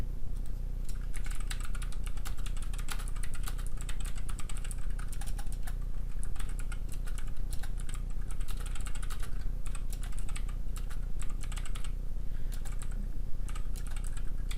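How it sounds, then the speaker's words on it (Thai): Steady, continuous typing on a computer keyboard, dense rapid key clicks running throughout at an even level, close and alone with no talking. "ผมก็จะพิมพ์ในนี้"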